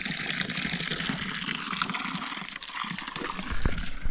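Water runs continuously from a roadside tap beside a school along a trail toward a river swimming spot, a steady splashing gush with a brief louder thump near the end.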